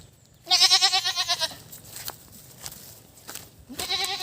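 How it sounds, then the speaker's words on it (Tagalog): A goat on a rural Philippine farm gives a loud, close, wavering bleat, then quieter background noise follows before a second bleat begins near the end. "So yung kambing kong isa guys, tatlo sana ito sila."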